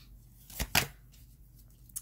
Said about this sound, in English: These cards are getting really hard to shuffle.